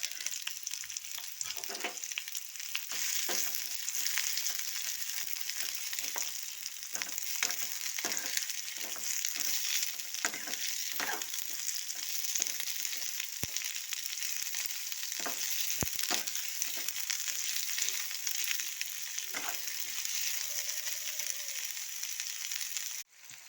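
Sliced large onions sizzle and crackle steadily in hot oil for an onion chutney, with frequent scraping stirs of a spoon in the pan throughout.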